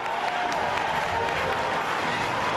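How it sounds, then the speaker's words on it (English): A video-game stadium crowd in Zelda: Twilight Princess HD roars and cheers steadily, a dense, continuous wash of massed voices with scattered applause, loud and unbroken throughout. "Look, listen to the crowd."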